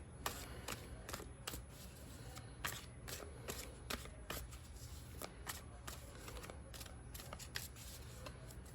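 A tarot deck is cut and shuffled by hand, giving a steady run of soft, close riffling clicks and card flutters with no talking.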